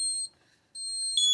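FCI FC7200 fire alarm panel sounding its notification circuits in an alarm condition, a piercing high electronic tone in two pulses with a short silent gap, loud and close with no talk.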